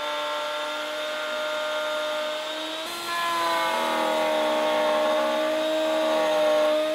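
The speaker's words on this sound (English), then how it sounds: "I'm going to do that at the router table using a half-inch spiral bit" Router table with a half-inch spiral bit cutting slots in bed slats, a steady high motor whine that drops in pitch and grows louder and rougher as the bit bites into the wood.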